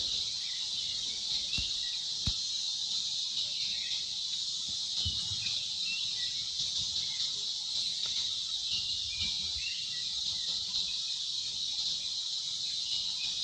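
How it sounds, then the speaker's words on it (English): A cicada's song fills a forest in Tadoba Andhari Tiger Reserve, India: a continuous, high, even buzzing drone heard at moderate distance, with a few faint clicks and knocks underneath. "The loud buzzing noise that is heard here is the song of a large winged insect called cicada."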